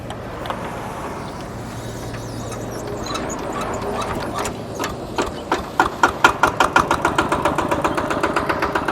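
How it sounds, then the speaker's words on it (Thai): Diesel engine of a used Kubota RT walk-behind tractor with new steel wheels runs steadily, its idle growing into a sharper, rhythmic knocking chug in the second half, close and alone. "ฟังเสียงเครื่องครับผม"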